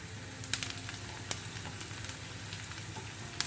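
Onions frying in oil in a pan, a steady quiet sizzle with soft crackles and occasional small pops, close by, with no voices.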